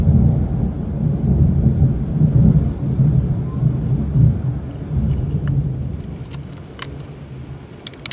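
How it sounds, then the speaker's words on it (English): Thunder rumbles long and deep through a rainy thunderstorm outside a woodworking shop, a sustained low roll that slowly fades, with faint clicks and taps near the end. "I like a good thunderstorm."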